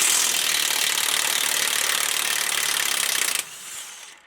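A ratchet with an 18 mm socket spins off power steering box bolts on a Jeep Gladiator Rubicon diesel, a fast continuous clicking whir, close and loud, stopping sharply near the end.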